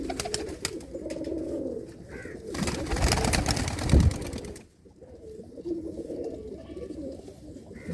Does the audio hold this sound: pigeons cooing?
yes